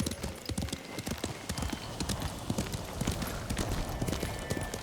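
Horse hooves clatter in a fast, steady galloping rhythm in the video game Ghost of Tsushima, close and continuous over a wash of ambient noise.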